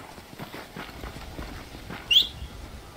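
Horse hooves clip-clop at a slow walk in Red Dead Redemption: Undead Nightmare, soft and fairly close against quiet game ambience, with a short sharp sound near the end.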